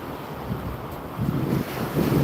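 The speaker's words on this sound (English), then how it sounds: "Such a beautiful, beautiful day to be out by the waves." Ocean waves wash in at a cold beach on a windy day, a steady rushing surf roar with gusty wind buffeting the microphone and low swells rising toward the end.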